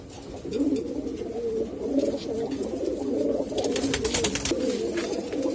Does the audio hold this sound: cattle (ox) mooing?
no